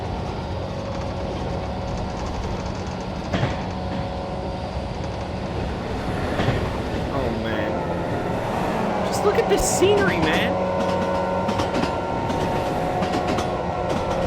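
A HR1500 series train runs steadily in a train simulator game on the Sankai Main Line, with a continuous rolling rumble, rail clatter and brief mechanical tones, while someone talks over it.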